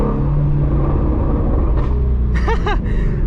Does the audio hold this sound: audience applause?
no